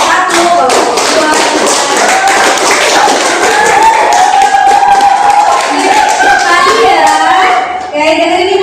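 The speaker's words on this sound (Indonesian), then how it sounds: "Aplaus buat kelompok 1, kelompok 2." Classroom applause for student groups after their presentations, a dense patter of hand clapping from a group of people, close and sustained, mixed with voices talking over it.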